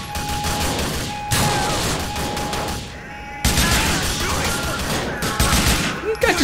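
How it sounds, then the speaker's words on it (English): Gunfire from the video game Grand Theft Auto 4, Lost and Damned episode, in a prison break: dense bursts of fusillade-style shots and clattering impacts, loud and continuous, with a brief lull midway before heavier firing resumes. "Stood there and I shot him in the face."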